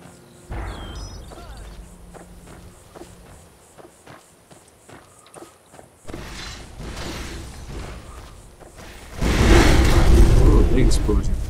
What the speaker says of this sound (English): Oh, big explosion.